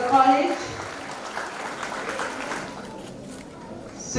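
Audience applause at a college Foundation Day ceremony at Hans Raj Mahila Maha Vidyalaya in Jalandhar, a steady wash of clapping from a large crowd, loudest at the start and easing off, with voices mixed in.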